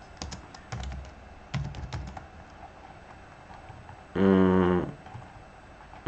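Typing on a computer keyboard in a quiet room, with scattered bursts of soft clicking keystrokes and one louder, sustained clattering run near the end.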